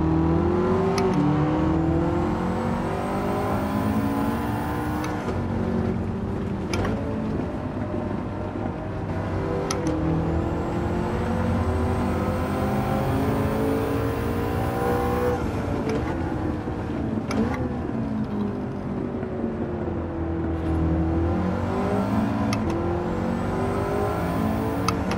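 McLaren MP4-12C (2010) engine in a racing video game, played with a Thrustmaster wheel, droning steadily and loudly throughout with rising and falling revs and brief shift dips, no talk over it.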